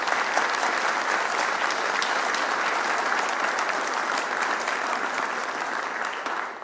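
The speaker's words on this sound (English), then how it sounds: "Let's give them a rousing applause." Sustained crowd applause at a Veterans Day ceremony at the Indiana War Memorial, a dense, steady wash of many hands clapping that holds at an even level throughout with only a slight taper near the end.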